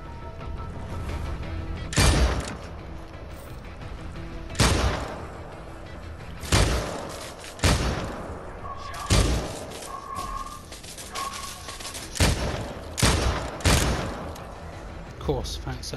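Pistol shots in Dead Island 2, roughly a dozen sharp loud reports spaced a second or two apart, with people talking in between.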